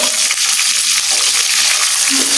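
Chicken roast frying in plenty of oil, a loud, steady, dense sizzle that fills the whole stretch with faint stirring underneath.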